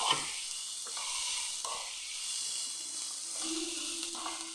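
Onions cooking under a lid in a pan, a steady soft sizzling hiss that runs unbroken and fairly close, with a few faint knocks and clinks.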